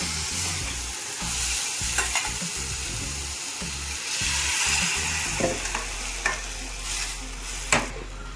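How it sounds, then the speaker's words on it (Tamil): Vadagam being tempered in hot oil in a cooking pan for a stem kootu, with a loud, steady sizzle and frying crackle and occasional stirring scrapes throughout, with no talking. "இப்போ வடகம் தாளித்து சேர்த்துக்கலாம்"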